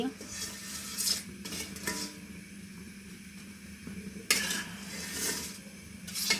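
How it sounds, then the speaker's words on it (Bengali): Lentil fritters frying in a pan on a home stove give a steady sizzle, broken by repeated scraping and clinking of a utensil against the pan. "এদিকে আমি বড়া চড়িয়ে দিয়েছি।"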